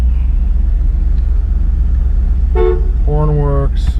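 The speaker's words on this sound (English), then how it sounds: "Horn works." A 1966 Buick Riviera GS honks its horn in two short blasts, the second longer, over a steady low engine idle close by.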